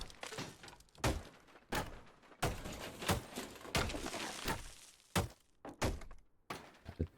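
Walls break apart in the Deconstruction Simulator demolition game, a series of heavy thunks, cracks and shattering crashes arriving in irregular bursts, loud and close with debris clattering between impacts.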